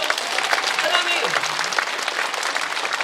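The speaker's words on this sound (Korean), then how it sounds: "우리 주님께 영광의 박수 올리겠습니다" A church congregation at a Korean prayer meeting breaks into loud, sustained applause filling the room, with the pastor's voice carrying over the clapping.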